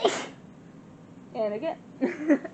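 A single sharp sneeze bursts out at close range in a hotel room, followed after a pause by people talking.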